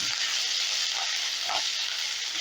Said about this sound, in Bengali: এবারে এই আদাটাকে একটু নাড়াচাড়া করে নেব কাঁচা গন্ধটা যাওয়া পর্যন্ত